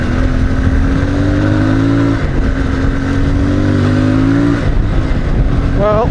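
A CFMOTO 450 MT motorcycle pulls through its gears on the move, engine tone climbing and dropping with each shift, loud and close under heavy wind rush.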